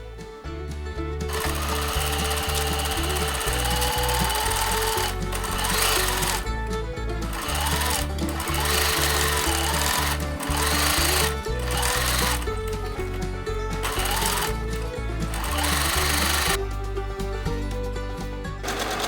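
A sewing machine stitches the shoulder seams of a garment lining, a steady mechanical run that pauses briefly and restarts several times, loud and close throughout.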